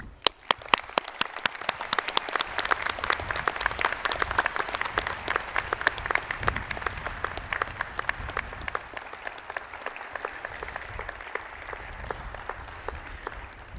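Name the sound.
round of applause at a commencement ceremony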